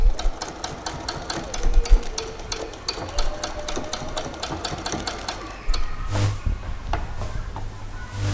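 Sewing machine stitching the waistline seam of a pair of shorts, a rapid even run of needle strikes with a motor whirr, briefly pausing and restarting near the end.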